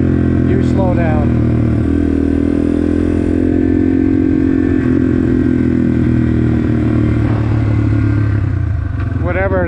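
A Yamaha TW200 motorcycle engine runs loud and close, its throttle rising and settling in a steady droning rumble with some mechanical clatter, while someone talks over it.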